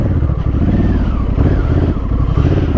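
Trail motorcycle engine running steadily and loudly while riding through turns, a close continuous drone with rising and falling revs and chattering clatter, with no voices.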